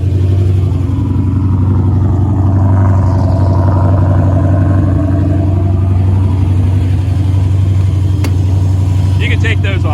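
A cold Chevrolet Camaro engine idles a little high, a steady deep rumble holding even and loud throughout, with a brief sharper mechanical tick near the end.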